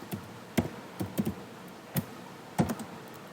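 Typing on a computer keyboard, a handful of close, sparse key clicks in an irregular rhythm over a quiet room.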